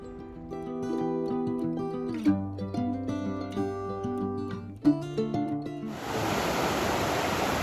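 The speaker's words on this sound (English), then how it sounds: "Water was flowing pretty fast, I guess from all that rain the other day" Melodic music plays, then gives way abruptly to loud, rushing rain-swollen stream water on a rocky Appalachian Trail section in southern Virginia, roaring steadily through the final couple of seconds.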